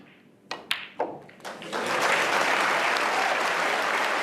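A snooker crowd at the 2025 World Championship last-16 match breaks into applause, starting with a few scattered claps that swell into steady, full clapping from the whole audience, with no voices.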